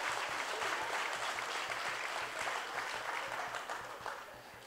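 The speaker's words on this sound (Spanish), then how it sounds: "Se oye puro tono bajo en esos aplausos." Church congregation applauding, a dense wash of many hands clapping at a distance, steady and fairly faint, then thinning slightly toward the end.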